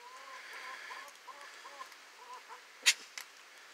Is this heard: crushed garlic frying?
no